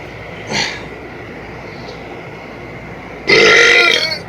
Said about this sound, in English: I have not done a burp for a long time, so I might be a little bad at it